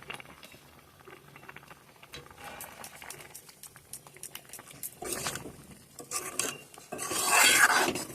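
Homemade tomato sauce simmers in a pan, with soft continuous bubbling and popping close by, broken up by scraping stirs that grow louder and busier toward the end.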